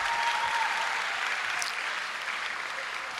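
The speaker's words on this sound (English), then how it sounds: "Y un big round of applause" Sustained applause from an audience fills a school moving-up ceremony, a steady wash of clapping heard from a distance that fades slightly toward the end.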